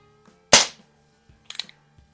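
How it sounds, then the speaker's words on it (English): A gunshot fired at a splatter target: one sharp, loud report, then a fainter cluster of cracks about a second later. "We'll shoot to the bottom splatter burst."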